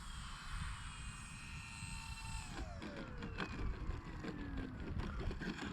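E-flite Maule M-7 scale RC plane in flight, a faint electric motor whine with a pitch that slides downward as it passes, fairly distant against outdoor background noise, with no talking.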